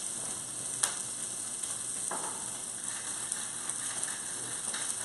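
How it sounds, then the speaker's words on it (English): Pork tenderloin searing in a hot pan gives a steady, close sizzle with a few faint clicks and pops scattered through it. "So this is going to go ahead and sear."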